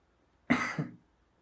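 A single short, close cough comes from a lone voice in a quiet room, a sharp burst followed by a smaller second push before silence.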